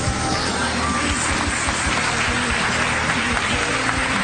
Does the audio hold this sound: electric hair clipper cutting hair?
no